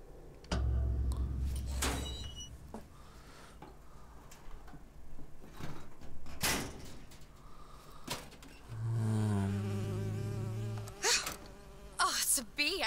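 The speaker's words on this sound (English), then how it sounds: "Oh, it's a bee." An insect buzz from a bee in Bioshock Infinite drones in and out near the start and again midway, mixed with scattered thumps and clicks from game noise.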